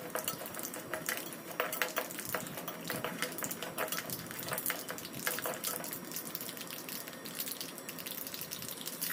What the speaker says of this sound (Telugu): శనగపప్పు, ఎండుమిర్చి వేసుకొని బాగా ఫ్రై చేసుకోవాలి.